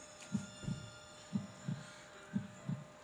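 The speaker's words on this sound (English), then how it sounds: "Caleb, I think this is my heartbeat." A heartbeat effect in a Roblox game thumps in three evenly spaced double beats, low and muffled, over a faint steady hum with no speech.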